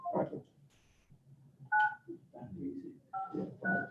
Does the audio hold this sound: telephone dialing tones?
yes